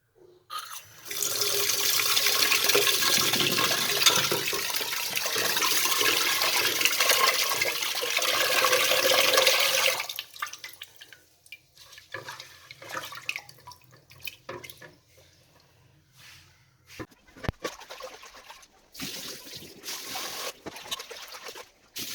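Water runs from a tap into a sink for about ten seconds while rice is washed, then gives way to softer sloshing, trickling and drips as the grains are rinsed.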